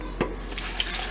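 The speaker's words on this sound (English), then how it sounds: "now we just need to add water" Tap water runs steadily into a pot of mushroom stock being prepared for canning, a short close splashing pour.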